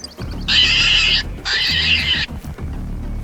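A pig in the hunting game theHunter: Call of the Wild lets out two loud, shrill squeals, each lasting close to a second, with a short gap between them.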